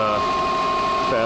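A 2006 Subaru Legacy GT engine at cold fast idle gives a brief, steady, close hum with a constant pitch.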